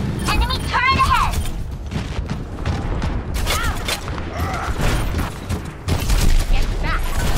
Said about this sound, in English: Enemy turret ahead.